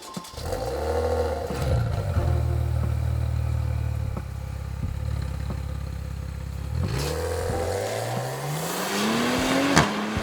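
A 2018 Maserati Levante in sport mode with its exhaust valve open rumbles loudly at idle, then blips and climbs into a rising, aggressive rev near the end, with sharp exhaust cracks and no speech.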